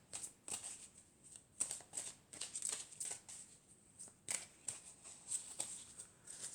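Tarot cards are shuffled and cut by hand in a quiet room, producing a run of soft, papery riffles and taps at an uneven rhythm, close and fairly faint, with no talking.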